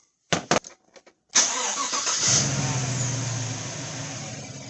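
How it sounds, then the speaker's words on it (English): A 2016 Chevy Silverado with a 5.3 engine and a misfire cranks and starts: a few clicks, then the engine catches and settles into a steady, slightly uneven idle that continues to the end, with no talking. "I'm going to go start it up"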